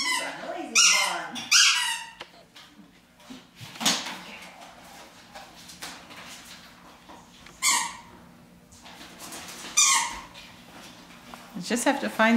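A dog plays with a squeaky ice cream cone toy, giving several sharp high squeaks in short bursts separated by quieter pauses, close by.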